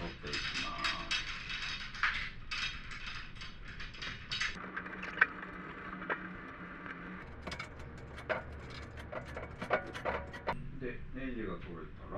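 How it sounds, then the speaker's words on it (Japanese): Hand unscrewing of floor tom drum tension bolts gives faint, irregular metallic ratcheting clicks and scrapes, with a voice talking over them throughout. "ある程度緩まったら指で取れるので"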